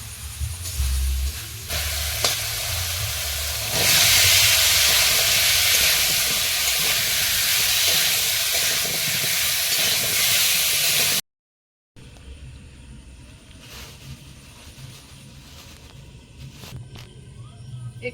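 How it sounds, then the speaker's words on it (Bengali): Vegetables tipped into a hot pan of ready spice paste, cooked outdoors in the Sundarbans, hiss and steam loudly in a broad, steady rush that runs for several seconds, drops out briefly, then returns more quietly with low rumbling underneath. "মশলাটা একদম রেডি হয়ে গেছে এবারে সবজিটা দেবো"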